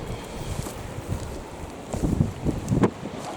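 Wind blows at a beach in gusty, rumbling surges against the microphone, swelling louder toward the end, with no talk over it.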